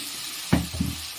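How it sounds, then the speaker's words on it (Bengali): Spices and tomato paste being sautéed in a pan for a vegetarian chhanar dalna: a steady sizzle with two quick stirring scrapes close by, short and moderately loud. "এটা এবার আমি ভালো করে কষিয়ে নেব। এটার মধ্যে আমি এবার দিয়ে নেব টমেটো বাটা"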